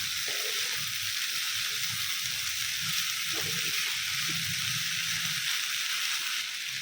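Chopped capsicum with salt sizzles steadily in a pan over high flame while being stirred, giving a continuous close frying hiss with soft scraping and stirring knocks throughout, no talking.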